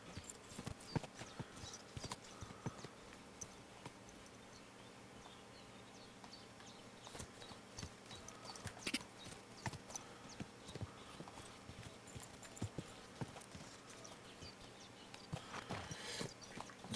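Soft, steady clip-clop of horse hooves walking in the video game Kingdom Come: Deliverance II, faint and continuous, with a few louder knocks along the way.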